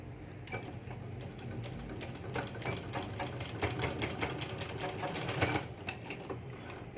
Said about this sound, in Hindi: अब आप नीचे की तरफ सिलाई लगाएंगे।